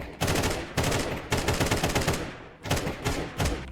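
A decoy grenade in Counter-Strike fakes gunfire, sounding as several loud bursts of rapid automatic-rifle shots separated by brief gaps, close and with no talking.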